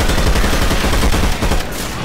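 Dense, continuous gunfire in Left 4 Dead 2 as survivors shoot armored zombies, a loud unbroken barrage of overlapping shots filling the whole stretch with no pauses.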